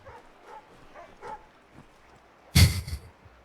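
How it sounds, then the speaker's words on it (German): A single loud dog bark bursts out near the end of a snowy street scene in the game Assassin's Creed 3, with quiet game ambience before it. "Erst bellt der Hund die Katze an"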